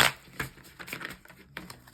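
Tarot cards are shuffled close by in a quick run of light papery flicks and taps with short gaps between them, and no one speaks.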